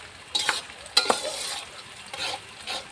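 Onions frying in a pan over a wood-fired stove, stirred now and then, giving soft crackling sizzle with a few sharper spoon scrapes, close and moderately loud with no talking.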